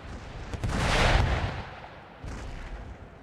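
Artillery counter-battery fire in Empire Total War, a rumbling volley that swells through the first second and a half, fades, then returns as a second, quieter burst of distant cannon fire.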